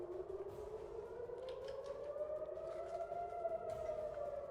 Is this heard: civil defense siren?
yes